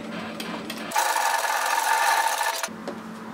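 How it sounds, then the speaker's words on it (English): Sewing machine stitching a straight seam at pin width while the presser foot follows a marked line, a steady close whir that runs for under two seconds, with no voices heard. "I'm just going to use my presser foot to follow the line down and create that line of stitching"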